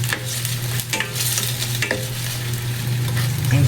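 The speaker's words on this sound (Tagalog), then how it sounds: "Mix yan natin." Chicken adobo fries in a pan as it is stirred, a loud continuous sizzle broken by several sharp scraping stirs, close and with no talk.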